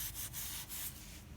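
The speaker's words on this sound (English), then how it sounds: "I was scrubbing away" Scrubbing a garden lopper's blade during old tool restoration: about a second of close, dry rasping strokes, with a few short rubbing pulses and no voices.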